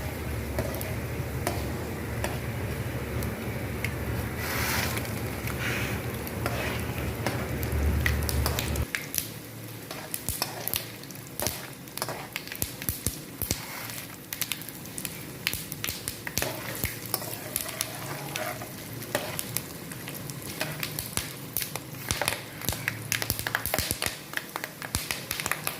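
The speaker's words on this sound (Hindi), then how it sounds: "हल्की आंच पे आपने इन सारी चीज़ों को तेल में जलाना है।" Ingredients fry in oil over low heat, a steady soft sizzle with scattered crackles and pops, stirring and tapping noises breaking in, heard without talk.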